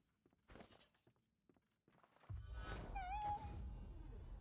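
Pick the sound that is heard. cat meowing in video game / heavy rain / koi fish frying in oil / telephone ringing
cat meowing in video game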